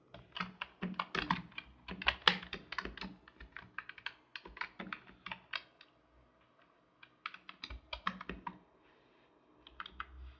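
Python code for a Caesar cipher is typed on a computer keyboard, rapid close keystrokes in dense bursts with a brief pause midway, no voice.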